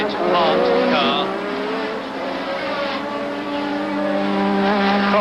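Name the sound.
Formula One race cars, British Grand Prix at Brands Hatch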